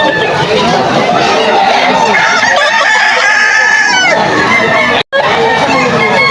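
A gold stag gamecock, fourteen months old, crows and clucks among other fowl at a rooster sale, with people chatting loudly over the birds throughout and a brief dropout near the end.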